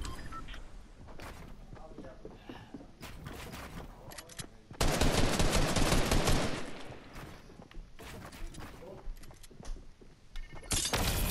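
Gunfire in the Fortnite video game, bursts of rapid automatic shots and a few sharp cracks, loudest in a dense stretch midway, with a player talking over parts of it.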